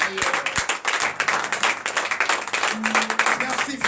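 A congregation at a morning prayer service claps and cheers in acclamation, a lively dense burst of hand claps mixed with voices and shouts, with a few deeper tones underneath.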